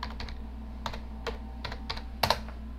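Password being typed on a computer keyboard while logging into a server: a quick run of light, close key clicks in an irregular rhythm, with a slightly louder pair of strokes near the end, no speech.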